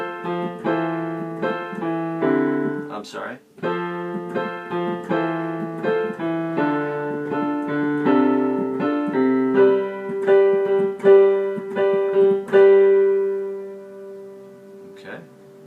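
A piano plays a song with simple chords in a steady, gentle rhythm of bass notes and chords, close and clear, with a brief spoken remark partway through.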